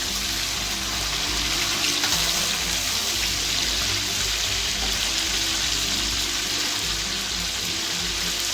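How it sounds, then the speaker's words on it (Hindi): Chicken nihari fries loudly in a pan, a dense, unbroken sizzle close by that stays steady from start to finish with faint stirring beneath. "तो अब हमने इसे अच्छे से फ्राई करना है"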